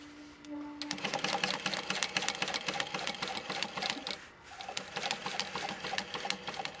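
A Juki DU-1181N industrial walking foot sewing machine stitching fabric, starting up after a brief hum and running in a steady, rapid mechanical chatter with a short slowdown midway, close and loud, no speech.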